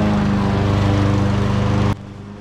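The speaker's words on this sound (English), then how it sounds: "It's just a 4-stroke Honda residential mower." Honda 4-stroke residential lawn mower engine running loud and close with a steady throbbing drone that drops suddenly near the end.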